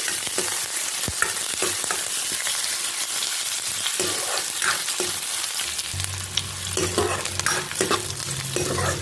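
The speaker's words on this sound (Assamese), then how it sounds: "পিঁয়াজখিনি পানীয়ালৈকে অলপ ভাজি থাকিম" Chopped onions fry in hot oil in a pan, a steady close sizzle punctuated by the scrape and clatter of a spoon stirring.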